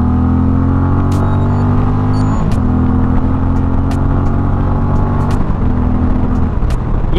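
A 2024 Indian Challenger Dark Horse motorcycle accelerates hard with traction control off, its loud engine climbing steadily through the revs with two quick gear changes, heard up close from the rider's position.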